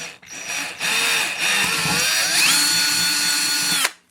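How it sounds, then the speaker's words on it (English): A power drill bores straight through plastic, its motor whining steadily with pitch rising partway through, preceded by a couple of brief starts, then stopping abruptly. "just drill straight through"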